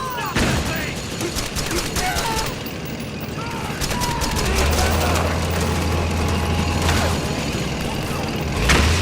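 Gunfire in the video game Metal Gear Solid 4 around a mansion compound, with dense bursts of shots and mechanical clatter over a rising rumbling din, and a voice shouting briefly.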